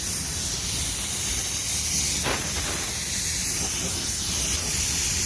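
A spray gun hisses continuously while laying a blending or binder coat onto a car door, the steady broadband spray sounding loud and close throughout.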